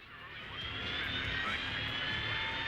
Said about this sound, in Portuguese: Harling's transport is ready to take off